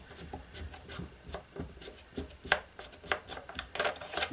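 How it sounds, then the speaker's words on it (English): Small rubbing and scraping clicks of a 3mm Allen key loosening the bipod lug on an Ares Striker airsoft rifle's outer barrel, quiet and close, in irregular bursts with no talking. "we're just going to use it to loosen off the bipod lug"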